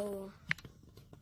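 Quiet computer keyboard typing with a few soft, irregular clicks, following a brief burst of speech at the start.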